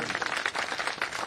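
Crowd applause at an Aam Aadmi Party political rally for taluka and district panchayat candidates, a dense, loud, continuous patter of many hands clapping together at close range.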